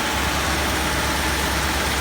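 A parked car's engine idles beside an air conditioning unit running with hot air recirculating at the condenser and too much oil in the system, giving a steady, close, unbroken rumble with a broad hiss.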